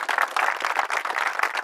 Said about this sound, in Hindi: एक बार जोरदार ताली बजाओ अपने लिए भी।